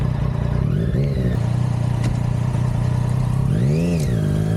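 A Triumph Daytona 675R sport bike on a mountain road rides loud and close, its engine droning steadily, then climbing and falling in two brief rev swells amid wind rush.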